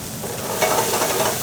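Garlic and shallot sautéing in a pan for chicken chasseur: a close, steady sizzle with some stirring noise, loud and continuous with no talking.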